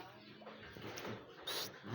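A dog gives a few short, faint yips and barks as a playmate dog arrives outdoors, close but soft against quiet background.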